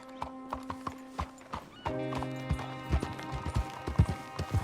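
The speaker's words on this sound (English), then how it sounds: "You got a horse? Get on it." Horse hooves clip-clop steadily in Red Dead Redemption 2, with a whinny partway through and music playing underneath, the hoofbeats close and fairly loud.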